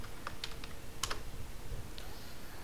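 Brief typing on a computer keyboard: a few light, separate key clicks in a quick irregular burst, close by and fairly quiet, with no talking.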